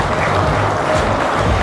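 Guests at an Armenian wedding applauding as the couple enters the dance floor, a loud, continuous patter of many hands clapping close by, steady throughout with no voices standing out.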